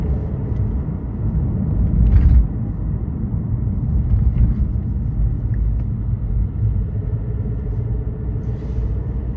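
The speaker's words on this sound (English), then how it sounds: "Do a little acceleration" Car engine pulling away in busy Monday-morning traffic, a steady low rumble that swells slightly and holds close, with a couple of faint passing noises over the drone.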